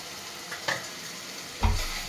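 Tamarind and turmeric frying in a pan for mandakki chitranna, with a soft steady sizzle, a couple of light scrapes and one louder stirring clatter near the end.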